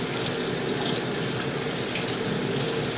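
Steady tap water splashes into a sink while a funnel and scraper from a Comco press are rinsed, a continuous close hiss with faint clinks, no voices.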